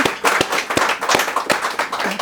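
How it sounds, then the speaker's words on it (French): Masterclass audience gives brief, uneven applause for Marie-José Pérec. Individual claps stand out clearly and close by, with no speech over them. "On peut applaudir."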